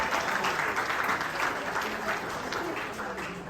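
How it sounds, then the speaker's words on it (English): An audience at a volleyball awards banquet and reception applauds its award recipients with a full, steady round of clapping, with faint voices mixed in underneath. "let's have one round of applause for all of our final award recipients here for our Banquet"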